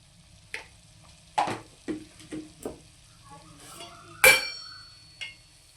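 Raw banana pieces cooked in oil in a pan, heard as a handful of separate scraping stirs and soft clinks against the vessel with a faint sizzle in the pauses, one sharper metallic scrape standing out.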